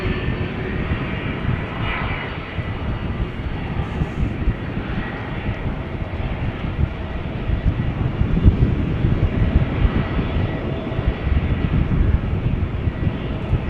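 A Boeing 777-300ER lands at Amsterdam Schiphol Airport, a continuous broad roar of jet engines at moderate distance that swells slightly toward the end, steady and unbroken with no voices.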